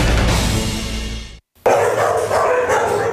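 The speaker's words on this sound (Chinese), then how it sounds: "一只两只好多狗狗看到有人来，都开心的摇尾巴欢迎。" Stray dogs at an animal shelter bark loudly and excitedly at close range, several voices overlapping in a dense chorus that breaks off for a moment before resuming.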